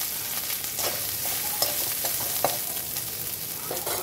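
Grated coconut stirred and fried in oil with cumin and bay leaf, a continuous soft sizzle broken by repeated scraping clicks of the spoon against the pan, close and without speech.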